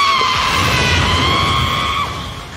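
A female Super Sentai character, Rita, lets out a shrill, sustained scream of frustration that rises over loud, rough background noise, holding steady for about two seconds before trailing off.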